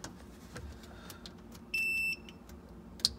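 A continuity tester gives a short steady electronic beep of about half a second while checking Sea-Doo XP ignition wiring, close and clear over faint handling clicks.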